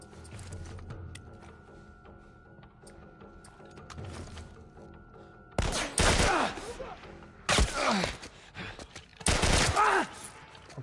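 Heavy-recoil gunfire in The Last of Us Part 1 cracks out in three loud, separated bursts after a quiet stretch of low ambient hum.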